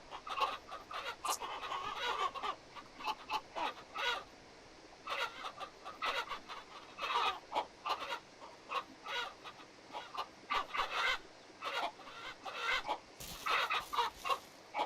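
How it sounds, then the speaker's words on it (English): Chickens cluck and squawk repeatedly in Ranch Simulator, a farm video game, with dense overlapping calls from a flock at moderate volume and no talking over them. "I'm going to have to be cruel to be kind here because I'm getting sick and tired of all these chickens."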